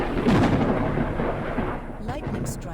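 Thunder from a lightning strike in the sky-exploration video game Forever Skies, a deep, loud rolling boom that rumbles and slowly fades, followed by faint game sounds.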